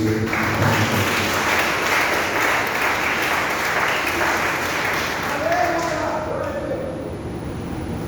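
A church congregation at a Wednesday evening service applauds in a dense, sustained wash of clapping that fills the whole stretch and eases slightly toward the end.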